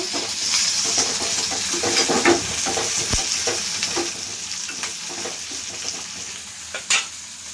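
Steady sizzling of green chillies and tomato frying in a pan, with occasional stirring scrapes and small pops, close and continuous with no talking.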